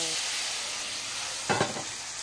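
Broth poured into a pan of sizzling squid adobo on the stove, a steady frying sizzle with a brief louder splashing burst midway as the liquid hits the hot pan.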